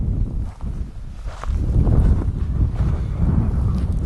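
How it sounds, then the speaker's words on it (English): Wind blowing from behind at an outdoor camp pitch, gusting into the microphone as a loud, broad buffeting roar that rises and stays strong, no voices. "the wind's coming from my rear at the moment"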